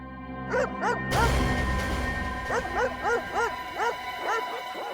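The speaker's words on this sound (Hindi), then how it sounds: "कुत्तों के भौंकने की आवाज पीछे की तरफ से आ रही है" Several dogs bark and yip repeatedly in the background, in uneven bursts over a low steady hum, with no speech.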